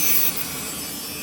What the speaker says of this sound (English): we're simply gonna just Dremel this little piece